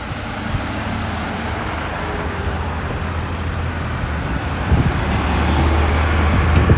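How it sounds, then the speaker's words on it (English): Steady roar of cars on a busy city road in Regina, heard continuously from the sidewalk while walking alongside it, with a broad constant wash of tyre and engine noise that swells slightly near the end. "Probably more traffic noise today because I'll be walking alongside a much busier road."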